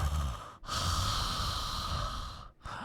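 A person imitates heavy breathing close into a microphone, two long loud breaths with a short gap between them, with no other speech.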